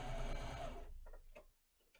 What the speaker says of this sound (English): you go ahead and top stitch